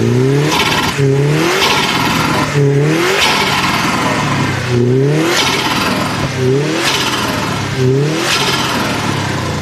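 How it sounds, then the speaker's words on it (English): A Subaru WRX turbocharged engine revving hard in repeated bursts, each lift-off followed by the chattering flutter of the turbo, loud and close. "We definitely have turbo flutter."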